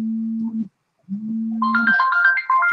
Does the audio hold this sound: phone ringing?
yes